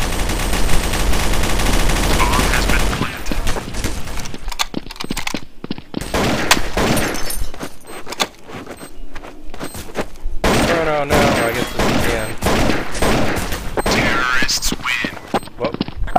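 Gunfire in Counter-Strike: Source on the Dust 2 map, with dense rapid shots and repeated bursts running almost continuously, loud and close, and voices talking briefly over the action.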